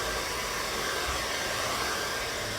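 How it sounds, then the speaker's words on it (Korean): An ordinary household hair dryer blows steadily on freshly applied putty during architectural painting work, a loud, constant airy roar that stays even throughout, with no voices. "헤어드라이기를 가지고 말리시면 되는데요"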